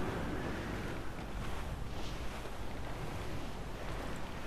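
Heavy wind howls over open sea in Assassin's Creed 4 Black Flag, a constant dense rush of air and surf around a sailing vessel, fairly faint but unbroken from start to finish.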